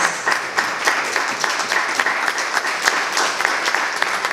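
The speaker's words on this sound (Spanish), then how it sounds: "damos a ustedes nuevamente un fuerte aplauso a todos los que estamos aquí presentes" Loud, close applause from an audience at a Christmas novena gathering, a dense patter of many hands clapping steadily with distinct individual claps standing out over the whole span.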